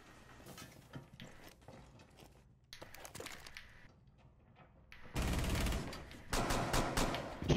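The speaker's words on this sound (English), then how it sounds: "I was shooting at the wall because there was somebody in there" Gunfire in Rainbow Six Siege aimed at a wall, with scattered shots early and then a dense, loud stretch of rapid fire near the end, mixed with mechanical clicks and rattles.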